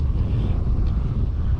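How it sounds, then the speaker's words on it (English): Steady wind buffets the microphone outdoors by the water on an overcast day of fishing, a constant loud low rumble with no voices. "it's definitely windy"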